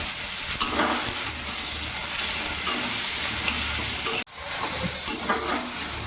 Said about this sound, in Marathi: कांद्याचं कलर चेंज सुचतोपर्यंत आपण कांद्याला मारून घ्यायचं